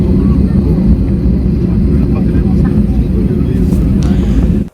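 An IndiGo passenger jet at the airport starts up with a loud, steady low rumble that holds for several seconds before cutting off abruptly.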